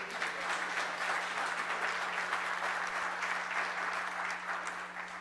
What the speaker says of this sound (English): I've never been clapped for before.